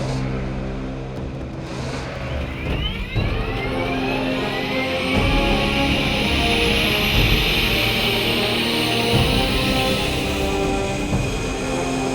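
A Hornet jet spools up in a drag race against a Chevrolet Corvette ZR1, a steady, loud roar with a rising whine that swells after a brief dip near the start and then holds strong to the end.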